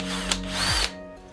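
A power drill drilling into aluminium, a loud, close high whine that winds down in pitch and stops after about a second, leaving faint background hum.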